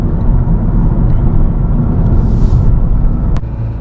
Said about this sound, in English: So I'm gonna do a second gear pull again